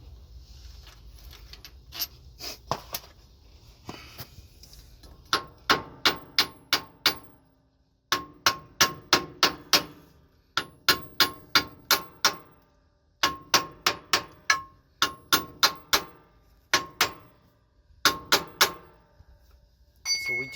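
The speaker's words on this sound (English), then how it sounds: "So we just align the U-joints using a hammer." Sharp metallic hammer taps ringing off truck U-joints and a pinion yoke on a Freightliner Cascadia, coming in quick bursts of four to six strikes with short pauses between, loud and close, with a few softer knocks early on.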